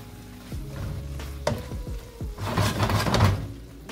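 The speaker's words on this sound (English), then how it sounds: "Give that a good stir." Creamy sauce stirred in a pan for salmon and shrimp, with a soft continuous sizzle under scraping and knocking of a utensil against the pan, growing a little louder toward the end.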